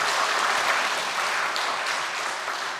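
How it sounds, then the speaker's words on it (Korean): A church congregation at a Sunday service applauds, a dense, steady wash of clapping that stays loud throughout and fades slightly at the end. "우리 큰 박수로 우리 맞도록 하겠습니다."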